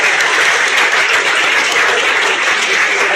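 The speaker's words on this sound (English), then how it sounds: "give this lot a round of applause, please" Studio audience applauding during UK general election night coverage, a dense, loud, continuous wash of clapping with no voices standing out.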